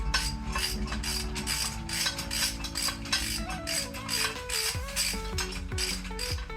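Hand ratchet tightening bolts on K24 engine mounts, a steady close run of fast clicking pawl strokes lasting several seconds, with a faint tonal hum underneath and no talk.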